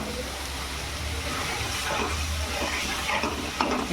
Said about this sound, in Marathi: आता आपण टोमॅटो पेस्ट टाकून घेऊ.